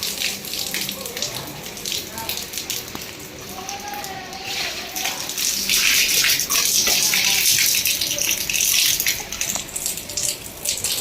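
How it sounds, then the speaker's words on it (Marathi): Water splashes and gushes down steadily during air conditioner servicing at home, a continuous broadband rush that swells louder midway, with faint voices underneath. "पाणी पडलं पूर्ण खाली"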